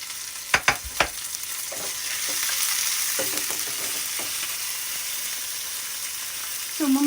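Onions, ginger and chili fry for masala in a pan, a steady close sizzle with a few clattering stirs and knocks at the start and near the end.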